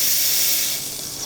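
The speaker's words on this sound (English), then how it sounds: "There's steam." Steam hisses from the boiler of a repaired Breville espresso machine, a loud continuous bright hiss close by that eases slightly toward the end, with no talking.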